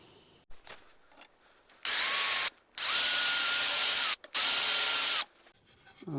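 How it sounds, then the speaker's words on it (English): A power drill bores a hole for a custom European deer mount in three loud, steady bursts with a high whine. Short pauses separate them, and quiet handling noises come before and after. "I can drill my second hole."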